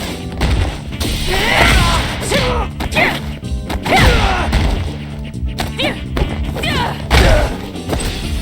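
A cannon spike attack lands in an action video game as a flurry of heavy smashes, thuds and booming hits in quick succession, with a dense, loud game soundtrack underneath.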